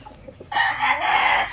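A Sulpicio Canarias broodstag rooster gives a loud, drawn-out call up close after a brief quieter moment, the voice strong and sustained to the end.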